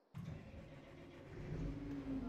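The most powerful tractor in Farming Simulator starts with a sudden crank and rises into a rumbling mid-pitched engine idle, with a slight rev swell toward the end.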